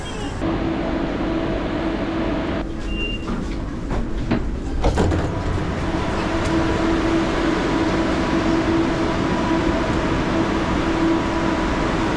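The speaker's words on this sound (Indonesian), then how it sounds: "jadi sekarang kita lagi di stasiun KL Sentral" A train at KL Sentral railway station in Kuala Lumpur, heard as a steady close rumble with a low hum, a brief clatter partway through and station ambience throughout.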